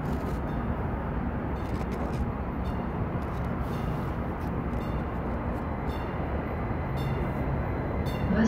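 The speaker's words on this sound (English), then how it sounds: "This train's definitely a bit early." A train arriving at Fort Worth T&P Station, a steady, loud rolling rumble of railcars passing close by with constant wheel noise and no talking.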